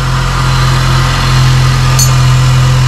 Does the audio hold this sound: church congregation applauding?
no